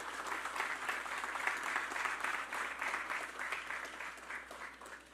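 Steady applause from a crowd at the groundbreaking ceremony for a utility-scale solar project at the Brechin Castle site, a dense, even wash of clapping heard from a moderate distance, lasting the whole stretch without any talk.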